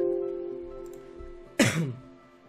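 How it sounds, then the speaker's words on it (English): A single sharp cough bursts out after a quiet stretch with a faint hum, then trails off briefly. "Again, I coughed"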